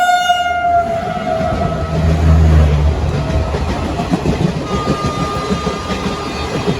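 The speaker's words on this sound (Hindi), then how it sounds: "तो ये रही गया गरीब रथ एक्सप्रेस और इसकी स्पीड भी कुछ खास नहीं है" The Garib Rath Express passing by in fog, with a long horn blast fading at the start, then heavy rumbling and rhythmic clatter of wagons rolling past close by.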